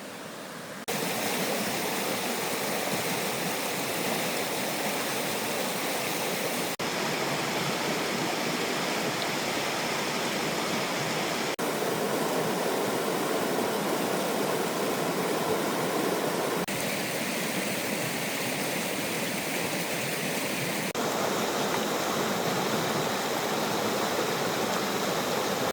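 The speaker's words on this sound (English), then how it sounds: "And you got this nice creek right here." Jack Creek in Central Oregon's Canyon Creek Meadows flows with a steady, close, full rushing of water that continues unbroken for nearly half a minute, with no voices.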